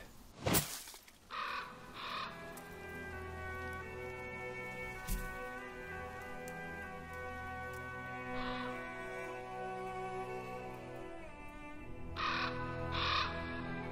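Crows caw a few times in short bursts in the video game The Pillars of the Earth, set in snow, over a continuous musical background with one loud impact near the start and no talking.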